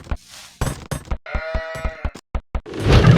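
Sheep in the video game Age of Empires II bleat in quick succession, wavering nasal cries interleaved with short knocking thuds, followed by a burst of broad noise, close and loud with no speech.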